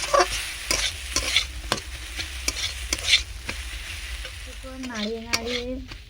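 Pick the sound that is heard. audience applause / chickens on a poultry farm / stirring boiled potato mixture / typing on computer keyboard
stirring boiled potato mixture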